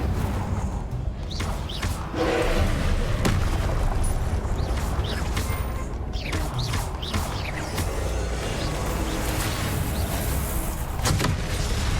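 Incendio fire spell cast in Hogwarts Legacy against a magical orb, a series of sharp bursts and crackling blasts scattered over a loud, dense background of game ambience.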